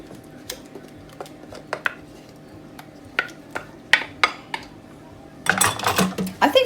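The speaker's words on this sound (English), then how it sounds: "we're gonna go ahead and mix our wet ingredients into our dry ingredients" Wet ingredients stirred into dry ingredients for apple banana quinoa breakfast cups, a utensil clinking and scraping against a bowl in scattered taps, then a denser, louder stretch of mixing at the end.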